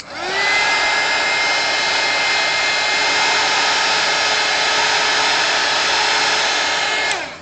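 A heat tool blows hot air to dry paint on a sketch, a loud, steady, close-up whooshing roar that runs unbroken for several seconds and then stops abruptly.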